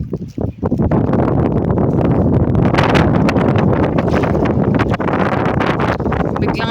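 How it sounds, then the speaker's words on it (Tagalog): Strong wind roars steadily and loudly against the microphone, a constant broadband buffeting with brief gusts and rustling throughout. "biglang lumakas yung hangin"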